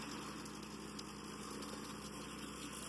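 A multifunction chopper machine running with a loose, imprecise frame, giving a steady, dense mechanical drone with a constant rattle that stays even for a few seconds.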